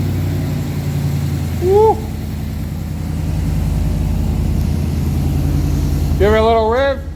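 A Walkinshaw Chevrolet Silverado 1500 pickup fitted with a full exhaust system cranks and fires up, settling into a steady, loud low rumble that runs under nearby voices, with an excited shout near the end.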